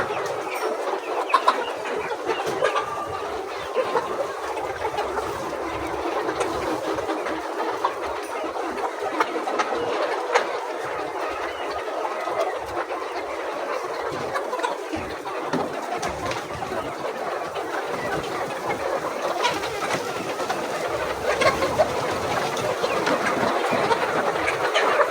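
Egg-laying hens raised organically, a dense chorus of clucking and chattering poultry filling the coop, continuous and fairly close with no voices.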